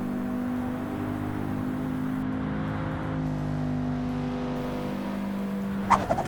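Race cars in Gran Turismo 7 hold a sustained, droning engine whine at steady revs, a continuous layered hum with a brief sharp rattle near the end.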